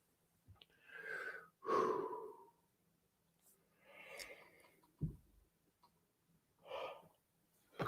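A single drawn-out yawn, breathy and slow, stands out near the start of a quiet stretch, trailed later by a few softer breaths and faint sighs with no speech over it.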